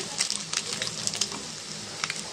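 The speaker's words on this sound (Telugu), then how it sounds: "ఇప్పుడు దీంట్లో మనం కట్ చేసుకున్న క్యారెట్ ముక్క క్యాబేజీ పచ్చిమిర్చి ఇవి కూడా మనకి బాగా ఫ్రై అయ్యే వరకు మనం ఫ్రై చేసుకుందామండి" Carrot, cabbage and green chilies fry in a pan, giving a steady close sizzle with scattered crackles and pops throughout.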